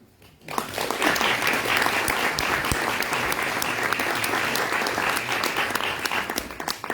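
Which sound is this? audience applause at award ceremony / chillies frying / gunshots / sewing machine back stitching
audience applause at award ceremony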